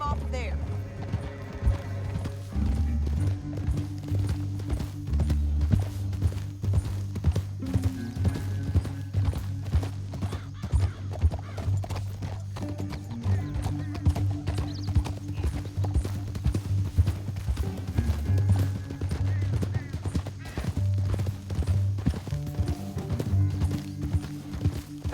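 Horses gallop in Red Dead Redemption 2, a steady rhythmic clip-clop of hooves running continuously under music and a man's spoken dialogue throughout.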